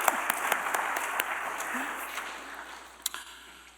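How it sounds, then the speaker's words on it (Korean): A church congregation applauds its worship leaders at a special Advent prayer service, a steady wash of clapping that gradually fades, with a few sharper individual claps near the end. "우리 다시 한번 우리 박수 한번 하고 할까요?"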